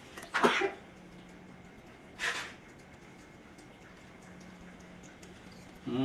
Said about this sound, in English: mommy's sneezing